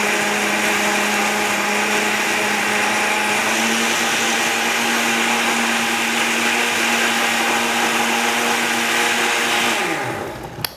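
A blender purees a soup of roasted tomatoes, pinto beans and olive oil, with a loud continuous motor whir that holds steady for about ten seconds before winding down and stopping.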